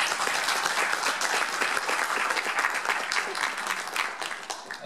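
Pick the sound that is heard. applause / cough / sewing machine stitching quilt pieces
applause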